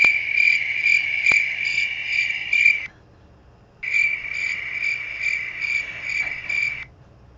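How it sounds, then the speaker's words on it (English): Crickets chirping in a loud, rapid, continuous trill that runs for about three seconds, pauses briefly, then resumes for another three seconds, close and clear with no talk. "The crickets."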